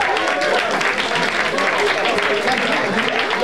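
Crowd at a vogue ball, the Big Print Ball, applauds and cheers in a dense, continuous wash of clapping mixed with voices, loud and sustained throughout.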